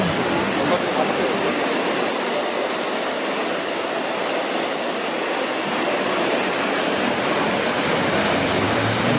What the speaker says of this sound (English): So this is a nice effect, the waterfall coming right down from